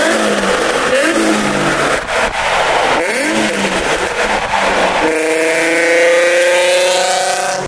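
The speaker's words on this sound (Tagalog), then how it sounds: "may nakasabay kaming isang mabangis na Nissan." A Nissan car's engine revs hard on a road near the Tatsumi parking area, loud and close, its pitch climbing in repeated surges through gear changes before settling into a steady high drone.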